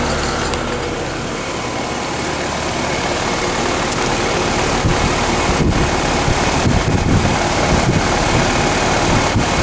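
A 2020 Heil N4H4 1.5-ton heat pump runs in heat mode outdoors, giving a steady, loud broadband whir with wind buffeting the microphone and no talk.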